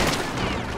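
A shotgun blast in the horror video game Little Nightmares 2, a loud, dense burst of gunfire with a booming, rumbling tail filling the short moment close up.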